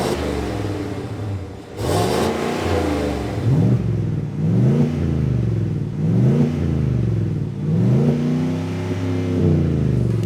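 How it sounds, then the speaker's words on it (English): A 2019-or-newer Chevrolet Silverado with a Flowmaster Flow FX catback exhaust revs repeatedly, giving a deep, throaty rumble that rises and falls in several pulses, close and loud with no talking. "this catback has a deep, throaty rumble, but isn't too overwhelming"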